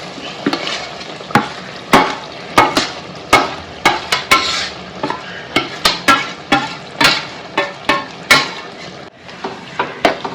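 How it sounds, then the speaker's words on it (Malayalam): A spoon stirs and scrapes a frying paste of onion, ginger, tomato and spices for fish curry in a pan. The repeated strokes come at a steady, brisk rhythm over a continuous close sizzle. "ഉള്ളിയും ഇഞ്ചിയും തക്കാളിയും എല്ലാമായിട്ട് നന്നായിട്ട് ചേർത്ത് ഇളക്കി കൊടുക്കാം"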